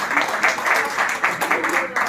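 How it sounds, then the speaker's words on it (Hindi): Rhythmic clapping from a panel discussion audience at a World Book Day event in India, in quick repeated bursts at moderate level, with speech mixed in. "ताली बजनी चाहिए आपकी बातचीत में,"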